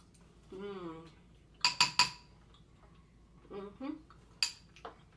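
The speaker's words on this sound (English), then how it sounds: "Let me stir it up a little bit." A spoon clinks sharply against a bowl of black beans in a few quick bright strikes, with a voice speaking briefly between the clinks in a quiet room.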